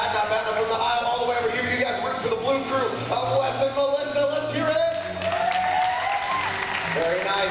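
A live stunt-show audience at Universal Studios Orlando cheers and applauds for the blue team, with loud sustained clapping and whoops throughout and a voice over the crowd.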